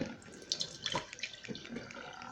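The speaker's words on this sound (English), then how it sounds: "Righty, here goes some water." Water poured from a container onto solid sodium cyanide melted to a vessel, to dissolve it. Splashing, trickling pour with a few brief surges, close and fairly quiet, no talking.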